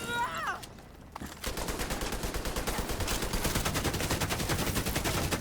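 Rapid automatic gunfire in a video game, a long stream of evenly spaced, close shots that starts after a brief voice and a short pause and then keeps firing steadily.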